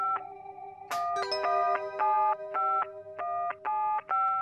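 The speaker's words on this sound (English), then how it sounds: "It's one of those phones the humans are always using." Phone keypad buttons are pressed in quick succession on a big gold toy-like phone, each beep a clean two-tone dialing chirp, about a dozen short tones in an uneven rhythm, clear and close.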